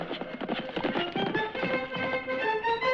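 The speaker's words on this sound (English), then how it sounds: "the thundering hoofbeats of the great horse Silver" The great horse Silver gallops, hoofbeats clattering in a quick steady rhythm beneath swelling orchestral music.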